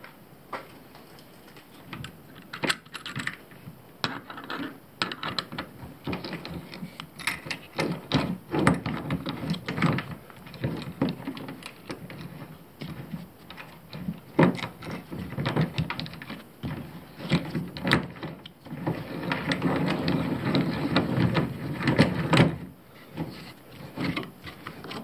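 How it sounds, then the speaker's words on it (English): A nut is screwed by hand onto the bolt of a DIY downrigger swivel base mount, with repeated small metallic clicks, ticks and scraping turns in uneven bursts, close and fairly quiet. "Now you need to put the washer, the lock washer, and after you're gonna screw the nut."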